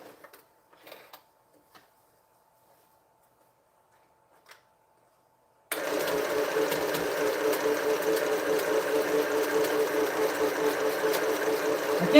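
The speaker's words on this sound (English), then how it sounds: "I'm going to sew through that end again." A sewing machine runs steadily stitching through the end of a quilt top, a loud, continuous whirring hum that starts abruptly after a few seconds of faint handling noises and near silence.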